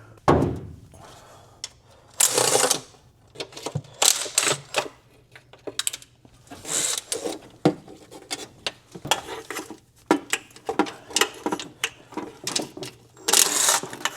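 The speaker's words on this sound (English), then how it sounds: "Take all the bolts out of the valve cover." Bolts come out of the valve cover on a 40-year-old Ford, heard as rapid bursts of close metallic ratcheting and clicking that start and stop repeatedly over a low steady hum.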